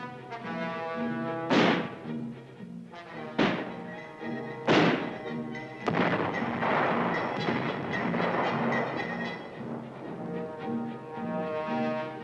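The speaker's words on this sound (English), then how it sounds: "Mortar teams are drilled in exercises to set up and to sight in, plot, and fire the big 81mm U.S. mortars." Big 81mm U.S. mortars fired during a crew training drill, with several loud, deep booming reports spaced a second or two apart, each trailing into a rumbling tail, then sustained heavy rumble, no speech.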